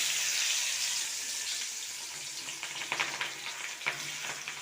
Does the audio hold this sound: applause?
no